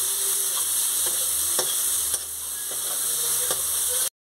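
Tomato masala with coriander powder, garam masala and amchur cooks in a frying pan, a steady close sizzle broken by several sharp taps and scrapes of a stirring spoon.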